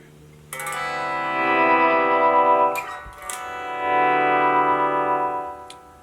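Two sustained electric guitar notes swell gently in volume with no pick attack, each rising smoothly to a held, slightly distorted tone with echo.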